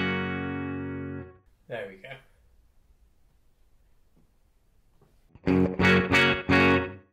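Electric guitar played through a modelled Fender Deluxe Reverb amp with a DR112 cabinet impulse response on a NUX Mighty Plug Pro headphone amp: a sustained ringing chord fades out, a brief strum follows, then loud chopped chords, with a short spoken remark between.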